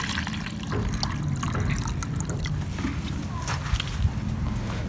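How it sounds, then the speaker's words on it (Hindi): Water pours and trickles into containers set out for goats, a steady liquid splash under faint rustling and a few clinks of the vessels. "तो ये ले पानी डाल लें पहले हम"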